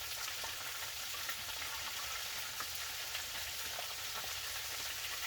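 Chicken pieces fry in a pan of hot grease, giving a dense, steady crackling sizzle with scattered pops throughout and no voices.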